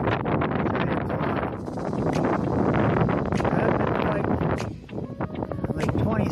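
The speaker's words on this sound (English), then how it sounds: "27 mile an hour sustained winds. Gusts probably 50, 60 mile an hour headwinds." Gusty headwinds of 27 mph, with stronger bursts, roar across the microphone on a bike ride heading down a big hill in Arizona, loud and buffeting with surges and brief lulls.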